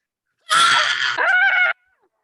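Two cartoon characters, the Warners, voice-acted screaming in terror, a loud harmonic shriek lasting just over a second with a brief dip midway, alone with no other sound.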